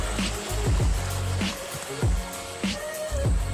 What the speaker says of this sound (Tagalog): Medyo bumilis yung hagos ng tubig.